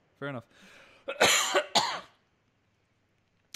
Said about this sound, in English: I'm still fighting off this cough